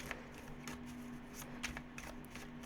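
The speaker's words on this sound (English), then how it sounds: "we're just going to shuffle this one 3 times" Tarot cards are shuffled by hand, a few quiet, close riffles and soft flicks in short bursts against a faint room hum, with no talking.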